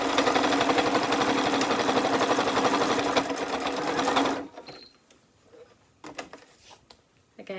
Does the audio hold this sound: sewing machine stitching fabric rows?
yes